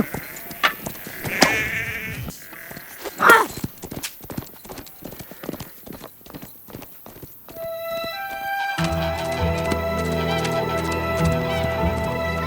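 Sheep bleat several times among the sharp clip-clop of horse hooves at a rural Mongolian homestead, with a horse whinnying. Busy percussive knocks fill the first half, then music swells in and continues to the end.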